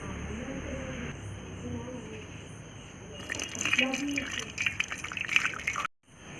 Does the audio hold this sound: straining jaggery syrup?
yes